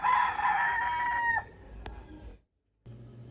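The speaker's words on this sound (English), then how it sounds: "this is where I keep catching those beautiful rooster crows" A rooster crows once in the Philippines, a loud, close, drawn-out call lasting about a second and a half that ends abruptly, followed by a brief sharp click and quiet background.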